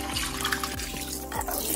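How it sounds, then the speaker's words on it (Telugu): Tap water runs steadily over raw mutton being washed in a kitchen sink, a continuous close splashing flow with a few low knocks of meat and hands moving underneath, no talking. "ముందుగా మనం మటన్ని బాగా వాష్ చేసుకోవాలి."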